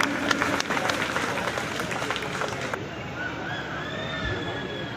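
An audience at a community welfare association picnic gathering claps in a dense burst of applause that fades after about three seconds, leaving voices and room murmur.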